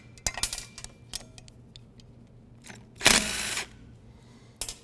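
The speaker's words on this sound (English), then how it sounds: "What you'll use is an 8 millimeter socket and remove the 4 mounting bolts" A power tool with an 8 mm socket backs out the tank mounting bolts on a SnowDogg snow plow pump, with a short whir near the start and a louder half-second burst later among small tool clicks.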